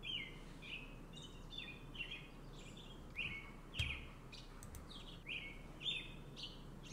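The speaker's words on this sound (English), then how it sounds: "The sound of birds chirping wake me from my deep slumber." Birds chirp in a video game: short, bright tweets repeat at a steady rhythm over a low, constant hum, fairly quiet and with no voices.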